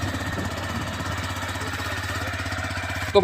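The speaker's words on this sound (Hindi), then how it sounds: "अभी मैंने अपनी टीवीएस स्पोर्ट को स्टार्ट कर लिया। आपको आवाज़ आ ही रही होगी" A kick-started TVS Sport 110cc motorcycle engine idles close by with a steady low, rhythmic chugging, ending in a brief louder burst.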